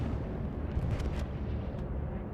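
Bombing-run explosions in the WWII shooter Hell Let Loose at Carentan train station, a heavy continuous rumbling roar of distant blasts with a few sharper cracks on top, no talk.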